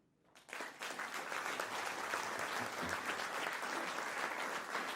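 Audience applause at a folk concert bursts in suddenly after near silence and continues as steady, dense clapping from a large crowd, fairly faint overall.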